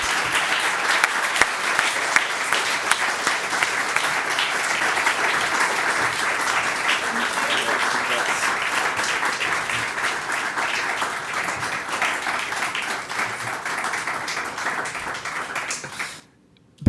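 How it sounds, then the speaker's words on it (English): A large audience at the EPRA Diversity & Inclusion Award 2019 applauds the winning company, steady dense clapping that holds for about sixteen seconds before stopping abruptly. "A warm applause for the winning company and Biljana."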